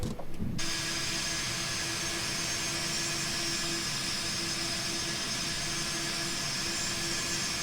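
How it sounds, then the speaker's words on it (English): Landing gear extending on a Captain Sim Boeing 767-300ER in Icelandair livery in the Prepar3D v5.1 flight simulator: a brief shift near the start settles into a loud, steady cockpit roar with a constant droning tone underneath. "So let's go ahead and drop the gear."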